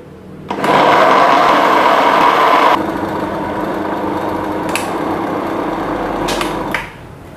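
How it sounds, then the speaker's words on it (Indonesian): Kitchen blender grinding cooked rice with about half a glass of water, a loud steady whir that drops to a lower, rougher pitch partway through as the mix smooths out, then cuts off near the end. "Oke, ini udah ya, udah selesai saya blender."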